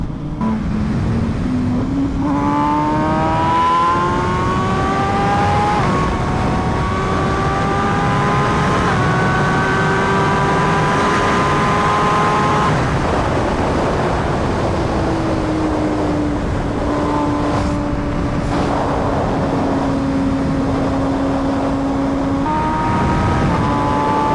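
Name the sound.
MV Brutale 1000RR motorcycle engine under throttle while riding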